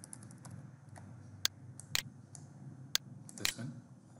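A few sparse keystrokes on a computer keyboard as a password is entered into a TP-Link Archer C7 router setup page, isolated clicks spaced apart over a low steady hum.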